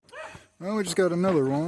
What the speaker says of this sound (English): You'll have to excuse that dog back there.